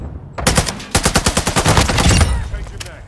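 TAQ V rifle fire in Call of Duty Modern Warfare II, loud, close automatic bursts with sharp rapid shots in quick runs and a short pause between them.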